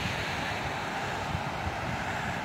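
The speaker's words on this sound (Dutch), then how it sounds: "Ja, de golven zijn hoog" High sea waves break on a beach in France, a steady, dense roar of surf mixed with wind noise, continuous and fairly loud with no talk.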